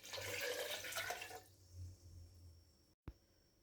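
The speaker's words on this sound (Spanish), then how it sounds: "Ahora colocamos los frutos en una procesadora y le agregamos medio litro de agua." Half a litre of water pours into a food processor holding curuba fruit, a steady splashing rush for over a second that tapers into a faint trickle, followed by a short clunk.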